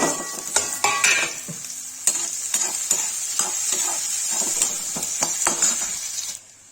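Onions and red masala frying and being stirred in a pan for egg curry, a steady close sizzle broken by sharp clicks and scrapes of a spoon against the metal, ending abruptly.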